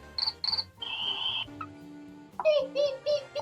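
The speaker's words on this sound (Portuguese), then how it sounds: "a gente vai usar o som de grilo" Cricket chirping sound effect chosen in a Scratch coding game, a few short bright chirp bursts playing alone alongside other brief cartoonish tones and blips.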